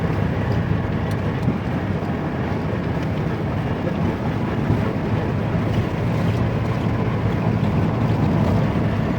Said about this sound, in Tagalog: Mahangin talaga, mahangin.